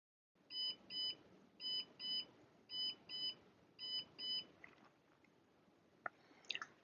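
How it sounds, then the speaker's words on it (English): A Polysher smoothing machine for Polysmooth 3D prints beeps in a repeating pattern of paired tones, four pairs at a steady pace, followed by faint mechanical clicks near the end. "the machine will beep again to let you know that it's safe to open"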